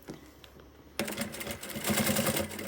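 A sewing machine sews a closing seam on a fabric pouch, starting abruptly after a quiet moment and running as a rapid, steady mechanical patter of stitches close to the microphone.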